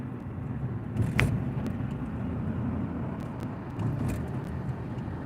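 Steady low road rumble and tire noise from a car cruising along the Belt Parkway, with a few brief swells of passing traffic; no one speaks.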